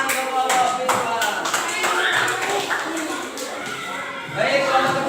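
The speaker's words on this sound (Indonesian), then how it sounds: "Kasih tepuk tangan untuk kelompok visual." Classroom participants clap for a group that has just presented, a brief burst of scattered hand claps alongside overlapping talk in a room.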